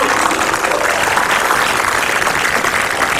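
Steady, loud studio audience applause fills the whole stretch at an Indonesian comedy talk show, a dense wash of many hands clapping with no voices over it.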